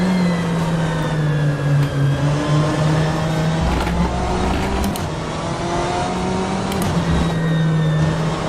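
A BMW M8 GTE race car at Road America in rFactor 2, its engine heard close and loud throughout, pitch climbing through the gears in repeated revving sweeps with brief shifts, no voices.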